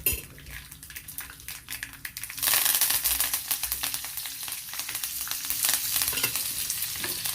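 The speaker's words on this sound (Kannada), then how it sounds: "ನೋಡಿ ಈಗ ಕರಿಬೇವು ನೋಡಿ ಚಟಪಟ ಅಂತ ಇದೆ." Curry leaves crackle and spatter in hot oil for a tempering, a dense close run of sharp pops and sizzle that jumps loud partway through and keeps going, with light clinks of a pan and utensil.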